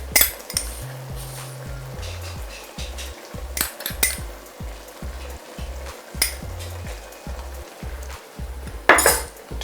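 A metal spoon clinks repeatedly against a cooking pot of beef stew during tasting, a steady run of light, close taps with a soft sizzle in the background and no talk.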